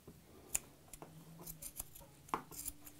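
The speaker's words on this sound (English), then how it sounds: "So I'm going to start by using just my regular scissors" Regular scissors snipping macrame cord fringe, a series of quick, close, crisp cuts at an irregular pace, quiet and without talk.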